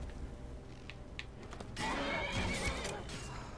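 A horse neighs in the Skyrim video game, starting with faint clip-clop steps and then breaking into a loud, drawn-out whinny over the game's background ambience.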